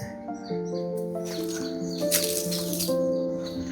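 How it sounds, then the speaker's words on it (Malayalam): Birds sing with clear, sustained whistled notes and overlapping chirps, a steady outdoor chorus at moderate distance in an urban forest in Thodupuzha, Kerala, with no talking. "പക്ഷിയുടെ നല്ല കളകള രാഗങ്ങളൊക്കെ കേൾക്കാൻ പറ്റുന്നുണ്ട്"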